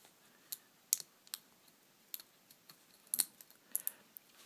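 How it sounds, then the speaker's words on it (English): Loosely bonded 3D-printed plastic support material is snapped off a printed puzzle piece, giving a scattered series of faint, sharp little clicks and cracks in an otherwise quiet room. "It's only bonded very loosely to the rest of the strong plastic, so in theory it should just snap off like that."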